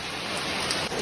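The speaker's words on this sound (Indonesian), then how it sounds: "Hujan. Malah main hujan." Rain falls steadily nearby in a dense, even hiss that continues for a moment without any voices.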